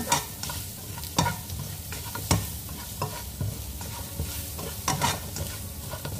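Food frying in a pan and being stirred: a constant near sizzle broken by a series of loud scraping and knocking strokes of the spoon against the pan, irregularly spaced, with no voices.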